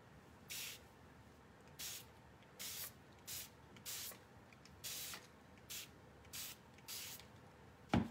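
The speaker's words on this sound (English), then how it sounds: "I'm gonna go ahead and spray on top of this again." A spray bottle spritzes water onto tissue paper in about nine short, quiet bursts at irregular intervals, each a brief airy hiss, with silence between.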